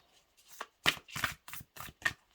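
Tarot cards are shuffled near and loud in a series of about six brisk riffling bursts, with short pauses between them and no talking.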